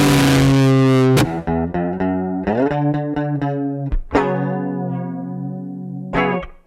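Electric guitar run through distortion, fuzz and chorus effects, a sustained buzzing chord followed by several picked chords and ringing notes, loud and alone.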